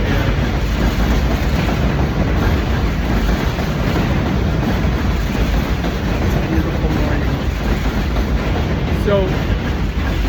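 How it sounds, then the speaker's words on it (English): A train passes close by, a loud continuous rumble with rhythmic clickety-clack from the rail wheels filling the whole stretch without letup. "Sorry, there's a train."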